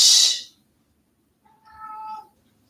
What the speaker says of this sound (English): My cat is screaming.